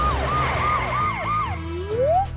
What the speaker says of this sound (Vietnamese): Đây là một chiếc xe cứu hỏa.